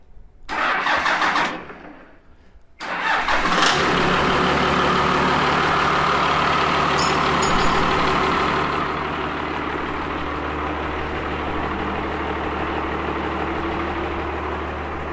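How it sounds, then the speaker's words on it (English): An engine fitted with a newly built 4-inch exhaust pipe cranks briefly, pauses, then fires and surges before settling into a loud, steady idle close by. "So with my 4-inch exhaust pipe all built up, you know what the next thing we need to do is? Start it up."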